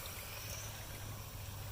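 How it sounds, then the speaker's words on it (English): Water steadily flows into a garden frog pond through an auto-fill float valve, a continuous low gurgling trickle with a steady hiss, close by and alone. "The water's flowing in."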